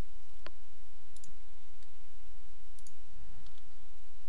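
A few sharp, quiet computer mouse clicks spaced out over a soft steady background hum, during work in Lightwave 3D software.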